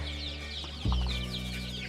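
Backyard village chickens raised in a pen cluck and murmur close by, with a louder, sharper cluck near the middle over a steady low hum.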